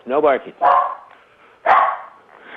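A dog barks three times close by, loud and spaced about a second apart, with a short yelp-like first bark.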